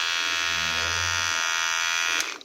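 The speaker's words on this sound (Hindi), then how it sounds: "जिसमें हमारा अब ये ट्रिमर चलने लग गया।" A repaired Nova NHT 1087-03 electric trimmer runs with a loud, steady motor buzz close by, then clicks off at the end.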